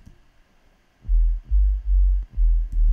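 A deep sub-bass sine wave pulses in four or five heavy, smooth booms after a near-silent opening, loud and alone with nothing else in the mix.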